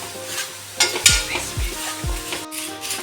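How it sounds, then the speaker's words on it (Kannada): Flattened rice (avalakki) dry-roasting in a pan without oil, a dry rustling crackle with repeated scraping strokes of a spatula and light clinks against the pan, and no voices. "ಎಣ್ಣೆ ಹಾಕಲಿಕ್ಕಿಲ್ಲ, ಹಾಗೇನೆ ಫ್ರೈ ಮಾಡೋದು."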